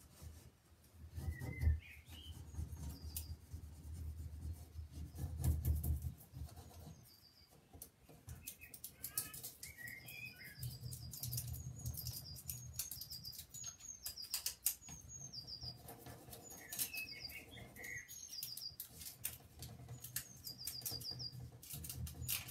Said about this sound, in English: that's just our wild sparrows and blackbirds and nothing fancy like cockatiels